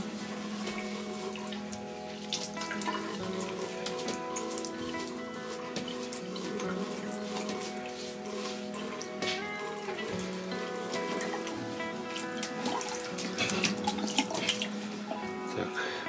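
Water runs steadily from a tap into a bathroom washbasin during a check of the drain pipes underneath, a continuous splashing and trickling flow that stays close and fairly loud with small drips throughout.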